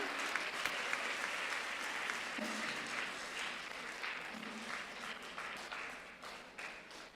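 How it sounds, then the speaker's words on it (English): Sustained applause from a crowd of students and staff at a school scholars' assembly, honoring the color guard; a fairly distant, even wash of many hands that slowly fades toward the end. "Can we get a big round of applause for our color guard?"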